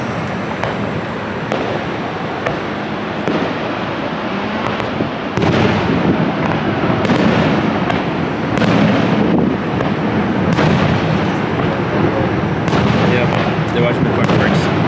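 Fireworks at Niagara Falls pop and boom in repeated bursts over a loud, constant roar of falling water and crowd noise, with people talking nearby.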